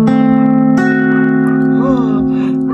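Guitar chord plucked across all strings, sustained and ringing close and loud, with a voice briefly talking over it as it decays.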